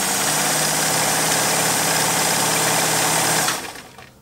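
A Kenmore 1752 domestic sewing machine with a 1.2 amp motor runs fast in a steady, loud, continuous whir, stopping abruptly near the end as the motor winds down.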